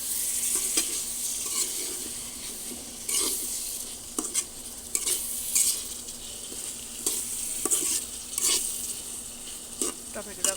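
Tomatoes fry with onion and chili in a pan, sizzling loudly under repeated scraping strokes of a spatula that stir and mash the mixture in an uneven rhythm, with occasional metallic clinks.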